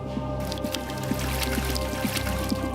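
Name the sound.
streaming water in a walled Iranian garden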